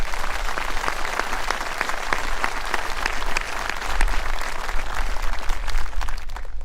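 A crowd at an Army and Navy Academy Veterans Day parade breaks into sustained, dense applause, steady and fairly loud throughout with scattered sharp individual claps.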